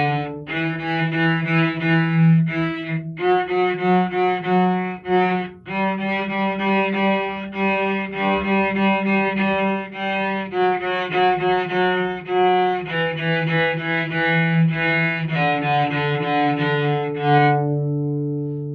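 A cello plays a D tetrachord exercise, the monkey song, in a beginner cello lesson: a steady series of sustained bowed notes rising and falling, loud and close with no talking.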